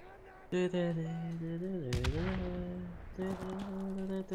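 A grenade blast in Call of Duty Modern Warfare Remastered, one heavy boom bursting out mid-clip over ongoing game sound, with a voice talking before and after.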